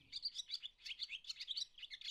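Birdsong of rapid, bright chirps repeats in quick phrases, fairly faint but clear, with nothing else heard.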